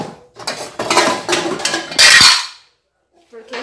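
Pots and metal lids clank loudly in a home kitchen as beetroot goes into a pressure cooker: several sharp clattering bursts, then a pause and a fainter clink.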